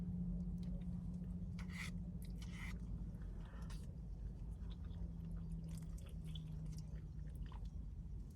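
Eating a crispy spicy chicken sandwich and mac and cheese: close, quiet chewing and a few crunchy bites over a steady background hum.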